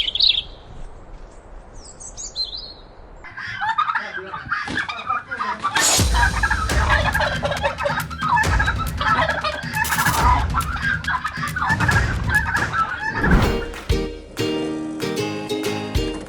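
Turkeys on a farm in Bantul, Yogyakarta give bursts of gobbling and clucking amid fowl calls, with scattered brighter bird chirps early on and busier clamor in the second half.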